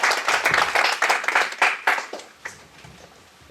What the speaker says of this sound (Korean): 박수로 보여주십시오.